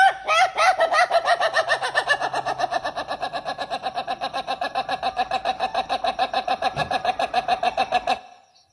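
Chicken clucking for a budots dance track: a fast, steady run of loud, bright, evenly spaced clucks that carries on for about eight seconds, then stops abruptly.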